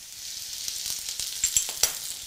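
Potatoes sautéing in a pan with a fresh knob of butter, a steady sizzle broken by a few sharp crackles and spatters, close and fairly quiet.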